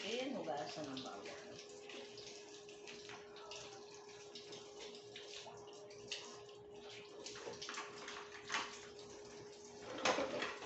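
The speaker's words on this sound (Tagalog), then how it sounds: "Kailangan natin hugasan ng bawang." Tap water running while garlic is rinsed at a sink in a home kitchen, a low steady splashing flow with faint gurgles and a louder splash near the end, fairly quiet.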